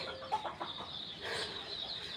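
Chickens in a backyard coop being fed rice give soft, scattered clucks at moderate distance, with a faint background murmur and no talk.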